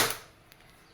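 One sharp, close shot from a WE airsoft Glock 18C gas pistol, a quick pop that fades rapidly into near silence.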